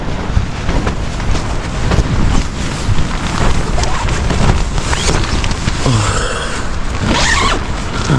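Strong, cold wind at a mountain campsite on Mt. Olis in Atok buffets the microphone and flaps tent fabric, a loud continuous roar with rustling and creaking throughout.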